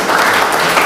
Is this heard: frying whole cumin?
no